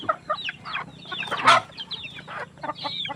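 Chickens cluck at feeding time in short, repeated bursts, several birds close by with overlapping calls and one louder squawk in the middle.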